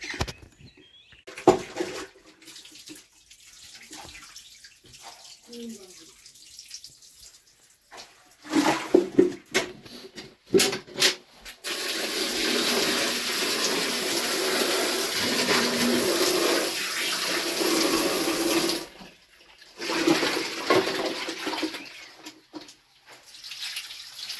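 Several freshly caught pond fish are washed in water, with intermittent splashing and sloshing that gives way to a long, steady rush of running water before fading into irregular handling sounds.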